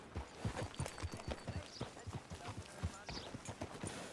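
Horse hooves clip-clopping in Red Dead Redemption 2, a steady walking rhythm of distinct clops, close and clear, running under a voice talking.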